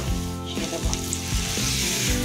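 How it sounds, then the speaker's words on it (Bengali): Oats being stirred in a pan over a low gas flame, a soft continuous sizzle with periodic scraping strokes of the spoon, close and quiet, no voices. "এই ওটসটা আমি এবার এর মধ্যে একটু নাড়াচাড়া করবে।"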